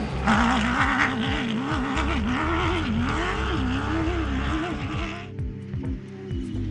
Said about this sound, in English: Pro Buggy 58 is next away, with Bruce Chapman at the wheel.